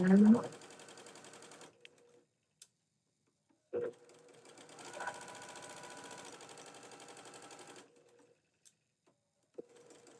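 A sewing machine stitches quarter-inch seams on fabric ties for a mini charm bow. The close, even mechanical whirring comes in a few separate runs of several seconds each, with pauses and occasional clicks between them, and a voice speaks at times.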